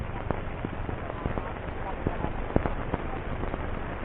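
A campfire in a desert nomad camp of camel-herding tribal families crackles with scattered small pops over a constant hiss, heard through thin, muffled, old-film sound.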